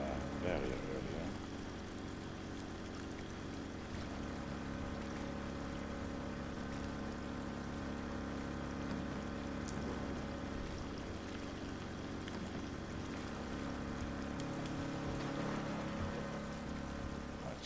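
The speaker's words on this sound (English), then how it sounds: "Right, so they're pumping the street." A water pump drains a flooded street in the drainage simulation game Drainsim, giving a steady, continuous mechanical drone with a watery rush under it, holding at an even level throughout.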